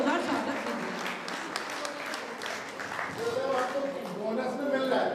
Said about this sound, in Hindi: सभी लोग तालियां बजाकर उनका जोरदार स्वागत करें।